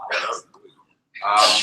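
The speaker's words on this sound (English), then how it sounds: "Bless you. Good sneeze." A single loud sneeze with a breathy burst, close to the microphone, followed by a short pause and then a second breathy exhale.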